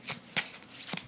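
A tarot card deck shuffled by hand, with three quick riffling bursts of card flutter close by, separated by brief pauses, and no talk.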